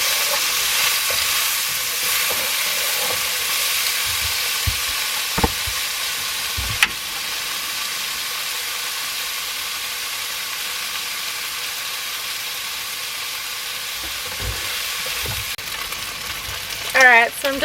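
Bacon, red onion and cherry tomatoes sizzling steadily in a pan in a caravan kitchen, a continuous close fry with occasional stirring clatter and a brief scrape near the end.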